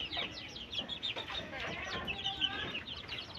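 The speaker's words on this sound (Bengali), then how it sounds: "আর এই টাইগার মুরগি দিয়ে আমরা ভালো কিছু করার চিন্তা ভাবনা করতেছি।" Tiger chickens cluck and chirp nearby in a brief, busy burst of overlapping calls with no talking.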